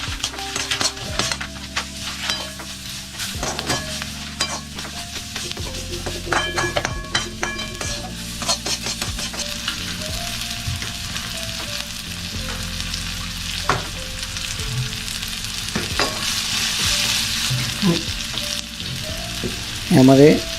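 Homemade Maharashtrian chivda mixture being stirred in a pan after salt is added, with a steady frying rustle, intermittent metal spoon scrapes and clinks against the pan, and a low hum underneath, close and without talk.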